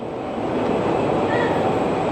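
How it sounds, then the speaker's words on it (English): A small futuristic capsule train runs through a sightseeing tunnel in China, giving a steady rumbling rail hum with a brief faint squeal partway through, fairly close and continuous. "Oh, look at the train. It's like a little train."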